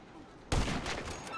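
Gunfire in the video game GTA 5: a sudden loud blast with a burst of rapid follow-up reports, close and heavy, over a dull background hum.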